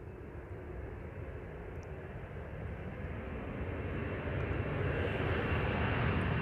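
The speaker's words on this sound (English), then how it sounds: "Ah, Dreamliner in the background." Jet roar from a Boeing 787 Dreamliner off in the background at Amsterdam Schiphol on a sunny morning, a broad steady rumble that slowly swells louder over several seconds, with no voices.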